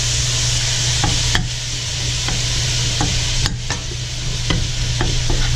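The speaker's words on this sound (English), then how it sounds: "While you're browning up your beef and everything, just take your spatula, a spoon, or whatever, and just kind of chop it up as it cooks." Ground beef browns loudly in a pot for taco soup while a spatula chops and scrapes through it, sharp strikes landing every second or so over a constant close sizzle.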